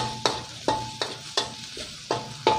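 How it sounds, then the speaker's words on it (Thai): Garlic and coriander root stir-frying in a little oil in a wok, a close crackling sizzle punctuated by about six regular scraping strokes of the spatula, with no speech. "ทางกระทะใส่น้ำมันนิดหน่อยครับ ตามด้วยกระเทียมกับรากผักชีของเราลงไปก่อนครับ ผัดให้พอกระเทียมกับรากผักชีเราหอมก่อนนะครับ"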